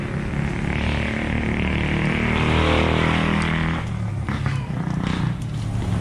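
A Rusi motorcycle converted from 125cc to a 200cc CG engine, with some parts still not fitted, idles steadily and continuously with a low throbbing drone, close and fairly loud, with no talk over it.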